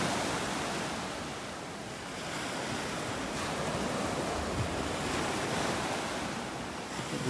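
Ocean waves washing onto a Gulf beach at Delnor-Wiggins in North Naples, Florida, a loud continuous surf roar with slow swells, steady and close, with no voices.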